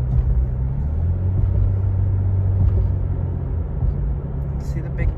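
A car drives across the Mackinac Bridge linking lower Michigan to the Upper Peninsula, heard from inside as a steady low road rumble and engine drone that holds throughout with no break.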